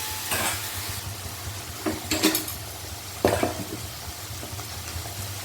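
Taro and small shrimp are stirred and mixed in a pan, with scraping strokes and soft sizzling. A few louder clatters of the utensil against the pan stand out over a low, steady hum. No one speaks.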